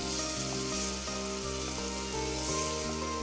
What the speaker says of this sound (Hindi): ये देखें पनीर अब मैंने डाल दिया, अच्छी तरह मैं भूनने लगी हूँ